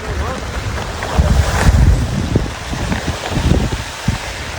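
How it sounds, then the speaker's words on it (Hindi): Strong wind buffets the microphone on a farm field, a loud continuous rushing roar with gusty surges and low rumble, while a voice speaks briefly underneath. "हवा कितनी तेज चल रही समझ में नहीं आ रहा।"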